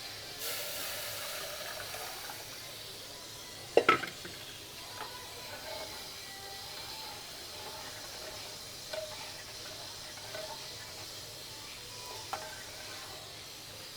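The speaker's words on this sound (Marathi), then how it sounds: "आता ही शिजवलेली डाळ टाकून घेते." Cooked dal added to a frying pan of tempered spices at home, giving a steady low sizzle with stirring scrapes and a sharp clatter near the start, occasional soft knocks, no talking.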